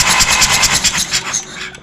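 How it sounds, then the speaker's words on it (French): A Hanomag diesel engine on a Massey 821D tractor, injectors removed, cranked by its starter: a fast, regular mechanical chugging and whirring, loud and close, slowing and tapering off near the end. "j'ai fait tourner tout simplement le moteur comme ça au démarreur."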